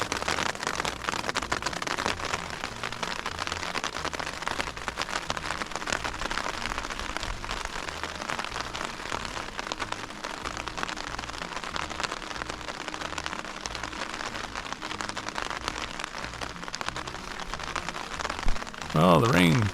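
Steady rain pours down on a hiking trail during a thunderstorm in the Desolation Wilderness, a dense, loud hiss of drops that continues throughout with no talking.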